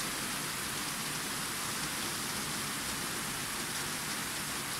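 Heavy rain pours steadily over a small town in Tyczyn after a severe storm, a dense, continuous hiss of drops drumming on surfaces, loud and close with no pauses or voices.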